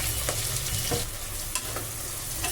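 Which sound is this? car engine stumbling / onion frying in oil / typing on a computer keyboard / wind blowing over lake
onion frying in oil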